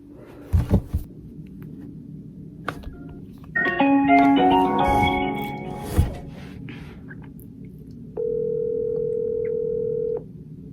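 A single steady ringback tone purrs for about two seconds after a few short clicks and keypad beeps, on a phone call to parents, fairly clear with no talking.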